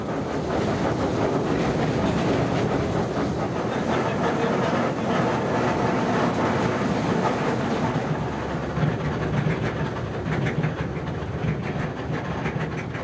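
Slow-moving train at about 10 km/h, passing through a tunnel on an overgrown, barely usable track, making a loud, continuous rattling clatter with steady clickety-clack and wind noise throughout, no talking.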